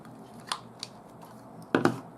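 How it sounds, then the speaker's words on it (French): A hand paper punch pierces a scalloped paper tag card during a craft step, giving a couple of short, close, crisp clicks and a sharper double snap near the end, with no talk. "Et on perfore."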